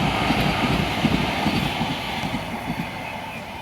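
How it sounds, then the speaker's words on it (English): A dense, continuous roar of traffic fills the air beside a plaza next to a busy arterial road, a steady rumbling wash of engines and tires close by. "Now here is this plaza next to an artery with a whole bunch of cars."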